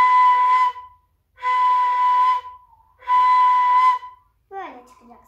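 A ney flute is played in a lesson, sounding three long, steady breathy tones separated by pauses, then a short wavering attempt at the end.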